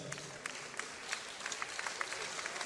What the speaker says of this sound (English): can we get a big round of applause for both men after an excellent contest?